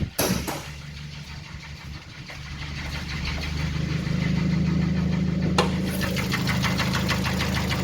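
Car engine with a worn bore and heavy oil consumption idling steadily under an open hood, a continuous close rumble with a light knocking tick, a short rising rev partway through.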